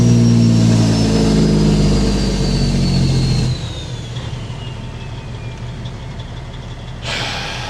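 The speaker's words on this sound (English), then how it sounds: "Drayton Valley loves Jake brakes." A truck's engine brake roars loud and close on an oilfield road in Drayton Valley, Alberta, in winter. The low, heavy rumble cuts off sharply partway through, leaving quieter road noise, and a brief burst follows near the end.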